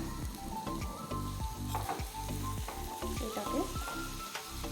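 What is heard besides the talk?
spice paste frying in oil for khichuri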